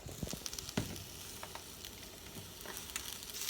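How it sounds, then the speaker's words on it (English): Portobello mushroom and eggplant sizzle in a hot pan seasoned with coconut oil and caramelized onion, a steady close frying crackle with a few sharper pops near the start. "putting the portobello mushroom and the eggplants in"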